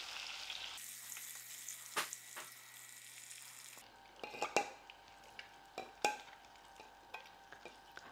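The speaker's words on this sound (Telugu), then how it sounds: "మన దగ్గర ఉన్న గుడ్లు ఎన్ని ఉంటే అన్నీ ఇట్లా వేయించేసేయండి" Boiled eggs with turmeric fry in oil, a faint steady sizzle that breaks off partway, then quieter crackling with scattered clicks and knocks of a utensil against the pan, no voices.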